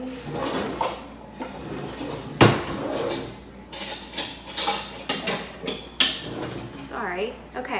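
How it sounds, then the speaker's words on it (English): Kitchen utensils clatter and a drawer rattles as a spoon is fetched while making cinnamon rolls, a loud metallic jangle followed by several clinks and knocks, with a voice speaking partway through. "so let me just get a spoon."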